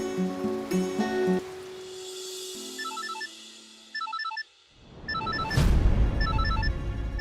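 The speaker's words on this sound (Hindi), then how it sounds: "जय सर का फोन, और वो भी इस वक्त" A phone ringtone plays in a quiet room, a repeating electronic melody in short bursts after some soft music, ending in a sudden swelling whoosh.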